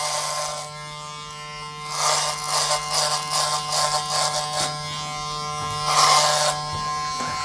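Electric hair clippers buzz close by during a buzz cut, a steady motor hum that swells into rougher bursts as the blades pass repeatedly through the hair, with no talking.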